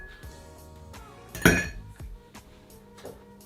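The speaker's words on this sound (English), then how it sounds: "So again, get your giant ice cubes, put it in." Giant ice cubes dropping into a highball glass, one loud clattering clink followed by a few lighter knocks and rattles as the ice settles, alone with no talk.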